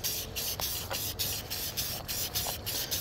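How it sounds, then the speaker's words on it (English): A spray gun mists a light clear coat onto a damaged car finish: a steady broadband hiss that pulses in short bursts with brief gaps, close and fairly loud, with no talking. "I'm just going to mist it right now"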